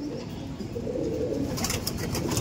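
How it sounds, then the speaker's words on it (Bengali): Madras owl-face pigeons coo in a low, continuous murmur, close by, with a brief brighter rustle near the end and no speech. "আজকে জাস্ট পায়রাগুলো দেখুন বন্ধুরা, দেখে মন জুড়িয়ে যাচ্ছে একদম।"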